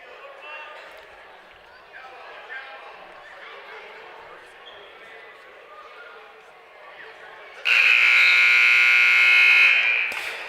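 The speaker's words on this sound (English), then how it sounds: "right at the end of the period, no point for an escape as he was standing up right as the buzzer sounded, and Terrell still had a nice, good hold." At a varsity wrestling dual meet, a loud, steady electronic buzzer ends the period, sounding for about three seconds over a background of gym crowd noise and voices.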